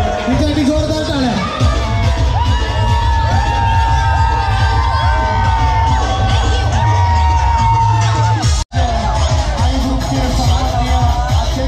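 Dense outdoor crowd at a Dahi Handi festival during Janmashtami celebrations in Maharashtra, cheering and whooping loudly and steadily, with shouts and children's voices over constant crowd noise and babble, broken by one abrupt brief cutout.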